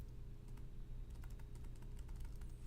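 A computer keyboard's W key held down and auto-repeating, producing a run of quick, light clicks over a steady low background hum.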